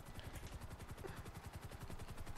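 A helicopter in the video game Grand Theft Auto 5 makes a fast, even rotor chop with a steady low thumping, continuous and fairly faint.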